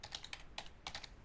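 Quick bursts of keystrokes clatter on a computer keyboard, several clustered taps in uneven rhythm, close and fairly quiet with no voices.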